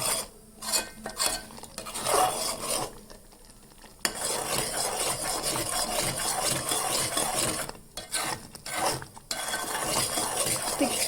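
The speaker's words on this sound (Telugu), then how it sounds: "ఒక టూ మినిట్స్ ఈ విధంగా కలుపుతూ ఉండాలి" A grated coconut mixture is stirred in a pan, with repeated scraping strokes of a spoon against the metal over a soft, continuous sizzle, pausing briefly between bursts of stirring.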